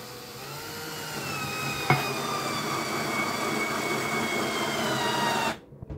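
A KIMO 20V cordless drill driving a 1¼ inch screw, a high whining motor hum that climbs slightly in pitch with a brief click near the start, then cuts off abruptly at the end.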